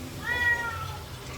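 A pet cat gives a single drawn-out meow, close and moderately faint, over a low background hum.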